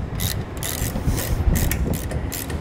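13 mm socket turning brake caliper bolts on a Kodiak disc brake, close ratcheting clicks in short bursts with scraping and rattling metal, no talk.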